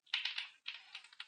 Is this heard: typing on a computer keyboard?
yes